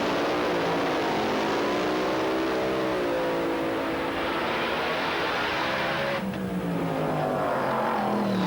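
A US-built methanol-fuelled dragster racing at Dieppe, its loud sustained engine roar with rising and shifting tones as it accelerates, continuous and close throughout.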